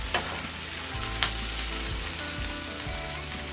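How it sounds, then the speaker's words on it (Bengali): Food fries in hot oil in a pan with a steady, loud sizzle and occasional stirring scrapes, close and continuous with no talk. "এই দেখুন ভালো করে ভাজা ভাজা হয়ে গেছে"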